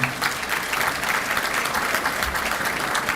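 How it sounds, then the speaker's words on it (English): Steady, full applause from an audience at a city State of the City event greeting the Commissioner of Revenue, even dense clapping sustained for a few seconds. "Let's give her a round of applause."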